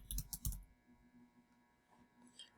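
Keys on a computer keyboard clatter in a quick burst near the start, then a few softer scattered taps follow in a quiet room.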